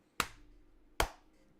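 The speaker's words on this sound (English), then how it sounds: "At least you guys will get a visual warning for the clap." A hand clap struck twice, about 0.8 seconds apart, each a crisp, fairly close snap that dies away fast, with quiet room tone between.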